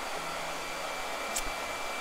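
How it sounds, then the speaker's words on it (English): A blow dryer runs steadily and loudly at close range, a constant airy whoosh with a motor hum, and no one speaks over it. "I got a blow dryer."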